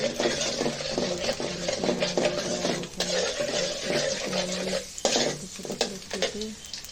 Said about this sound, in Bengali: রসুনটা একটু কাঁচা গন্ধটা দূর হয়ে যাওয়ার জন্য একটু ভেজে নেব